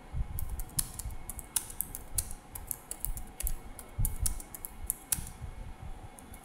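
Fast, irregular keystrokes on a computer keyboard while typing an HTML paragraph: quiet, close clicks in uneven bursts, with no voice.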